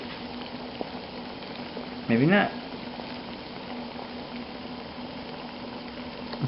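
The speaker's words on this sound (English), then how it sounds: "So it's fully boiling." Water at a full rolling boil in a modified backpacking pot, a steady bubbling hiss running throughout with a brief louder burst near the middle and a short spoken remark over it.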